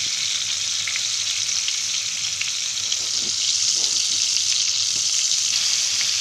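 Chicken keema cutlets fry steadily in hot oil, giving a close, continuous sizzle with a bright crackling hiss and occasional soft pops, no voices over it.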